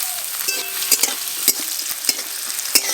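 Diced carrot fried with whole cumin seeds in a pan, a steady bright sizzle broken by several sharp scraping strokes of a spatula stirring, close and clear with no voices.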